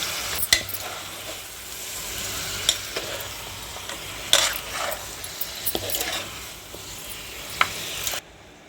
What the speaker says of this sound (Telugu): ఇది మసాలాలోకి ఇలా కలుపుకుందాం